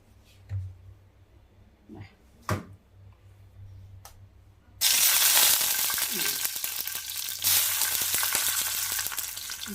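Oil sizzles loudly in a pan while tempering for solanum gojju, a Brahmin-style tangy dish, breaking in abruptly after a few faint clicks and knocks, then frying steadily with crackling pops.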